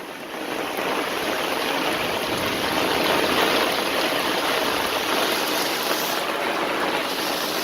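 Storm water rushes into a backyard catch basin as a loud, steady, close gushing roar without pause, and no voices are heard over it.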